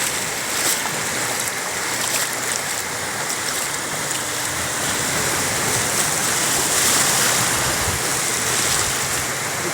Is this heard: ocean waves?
yes